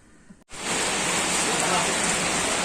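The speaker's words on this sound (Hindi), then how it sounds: "तो अभी बहुत तेज बारिश आ गई है।" After a brief quiet moment in Goa, a dense, steady roar of heavy rain starts abruptly and continues loudly without pause.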